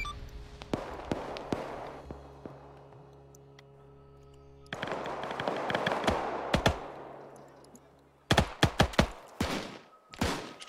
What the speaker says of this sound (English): We have had an explosion.